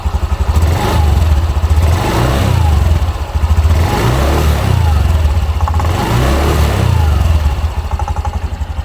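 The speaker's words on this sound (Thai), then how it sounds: "แล้วผมจะลองเร่งคันเร่งนะครับ" A 2020 Honda Scoopy i scooter engine revs up repeatedly, loud and close, with throttle bursts rising and falling in a steady pattern over a rumbling idle.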